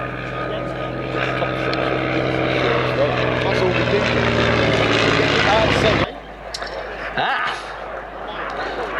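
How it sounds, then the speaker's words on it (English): A Jet Provost T Mk5 jet aircraft performs a flying display at an air and car show, its loud continuous engine roar dominating for six seconds before dropping sharply, with a commentator speaking over it. "Our one and only jet aircraft display here today"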